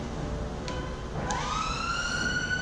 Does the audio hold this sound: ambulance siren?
yes